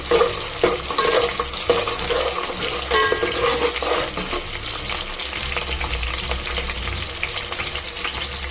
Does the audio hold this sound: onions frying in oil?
yes